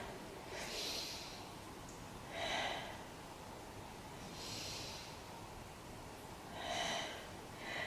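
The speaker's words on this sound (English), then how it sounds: "Take 3 breaths here." Slow, steady breaths during a beginner yoga posture session with chest and shoulder opening: soft airy exhales and inhales, roughly five over several seconds, close and moderately loud against a constant faint hiss, with no talking.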